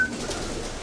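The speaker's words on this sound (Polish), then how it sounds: "Bardzo ładny gołąb." A pigeon from a German racing loft coos softly and continuously nearby, a low, steady murmur with no talk over it.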